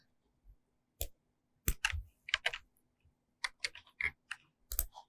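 Keys on a computer keyboard tap in short irregular bursts, with single clicks and quick clusters of keystrokes separated by brief pauses, close and fairly quiet.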